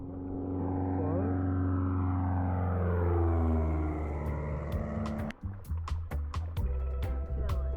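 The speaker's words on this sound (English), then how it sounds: "So there's just constantly planes going overhead." A small plane drones overhead in the Alaskan backcountry near Lake Clark, its engine tone swelling and then sliding lower as it passes, before giving way to close, scattered clicks and rustling.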